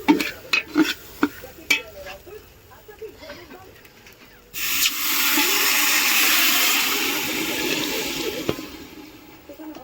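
Water poured into frying curry in a pan: a few utensil clicks and stirring taps come first, then a sudden loud hissing sizzle surges up and holds steady as the liquid hits the hot pan.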